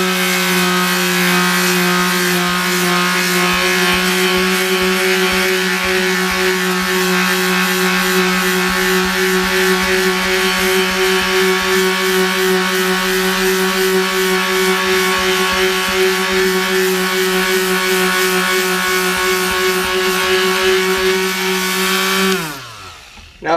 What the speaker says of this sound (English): using a palm sander, that'll do some of the work